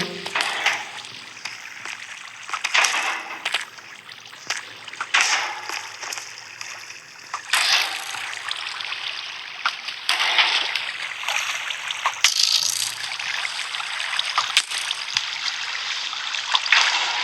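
Water splashes and sloshes continuously in the Minecraft video game, with mechanical clicks and ratcheting game sounds mixed in at a fairly loud, steady level.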